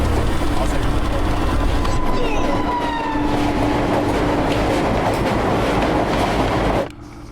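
A train rolls steadily along the rails, a loud continuous rumble with a sustained whine and clatter, then the sound drops abruptly near the end; voices faintly present.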